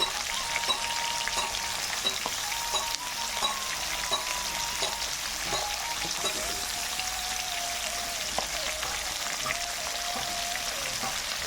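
A fish head fries in hot oil, giving a steady, dense sizzle with crackling spatters throughout, close and continuous, with occasional faint clinks.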